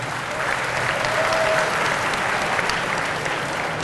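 Audience applause in a university lecture hall during a public talk by a government minister, a steady dense clapping that carries through the whole stretch, loud and close, with no speech over it.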